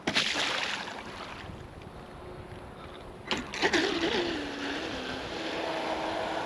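Wind buffets the microphone in rough, gusty bursts, with a faint tonal whine and brief knocks partway through.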